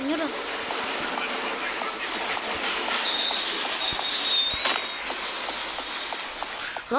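A train arrives in the video game Indian Theft Auto with steady rumbling and a high, drawn-out wheel squeal, continuous and fairly close, with faint voices underneath.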